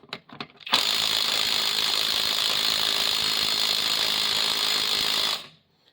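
An impact wrench from a Makita, Einhell and Chinese comparison test hammers nonstop for about five seconds, loud and close, after a few short clicks and before it stops.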